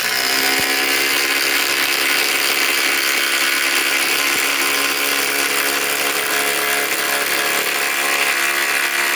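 A RIDGID 4-mode impact driver rated at 2400 inch-pounds, powered by a 3-amp Octane battery, runs nonstop at close range, a loud, steady, dense mechanical whine and rattle with no pauses and no voices.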